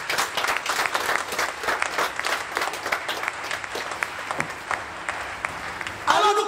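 Church congregation applauding the Lord during a French-language worship service, a steady roomful of clapping hands that fills the whole stretch, with a voice speaking over it toward the end.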